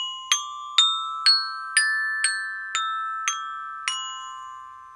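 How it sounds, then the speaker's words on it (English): Major pentatonic scale on a bright, bell-like melodic instrument, eight clear struck notes spaced evenly, each ringing and decaying, alone in quiet. "This is what a pentatonic sounds like."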